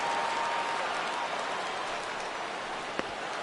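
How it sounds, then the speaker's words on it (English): Crowd noise in a PS4 baseball video game as the fans rise for a full 3-2 count, a steady broadband roar that holds evenly with a brief sharp tick near the end. "Crowd gets up for the 3-2"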